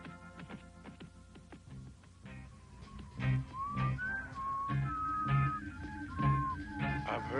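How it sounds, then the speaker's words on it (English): A person whistles a melody of sliding tones over soft background noise and occasional low thumps. "Heard that whistle before."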